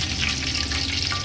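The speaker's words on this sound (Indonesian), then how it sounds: "Ini aku goreng tahu isinya tuh sore-sore sekitaran jam 3 sore." Stuffed tofu fritters frying in hot oil on a rainy afternoon, a steady close crackling sizzle that runs evenly from start to finish with no voices.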